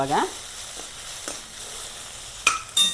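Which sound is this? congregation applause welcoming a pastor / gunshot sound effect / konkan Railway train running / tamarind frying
tamarind frying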